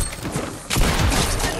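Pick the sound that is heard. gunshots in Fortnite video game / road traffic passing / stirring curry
gunshots in Fortnite video game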